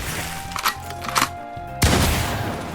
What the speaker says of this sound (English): You can also use your 1000 Dragon Shot like this.